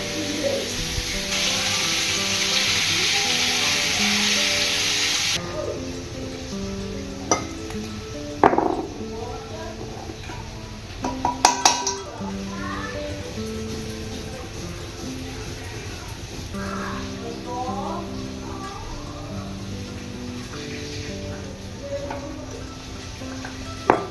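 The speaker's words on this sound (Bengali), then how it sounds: "আর এখানে আমি মাংসের আলুটা ভাজতে দিয়েছি।" Potatoes fry with meat in a pan, giving a steady close sizzle with occasional clinks of a utensil against the pan, under soft background music.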